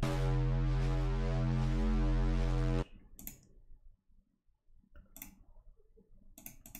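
An FM synth patch with oscillator B raised an octave sounds as a dense, loud sustained tone for almost three seconds, then cuts off, leaving faint scattered clicks.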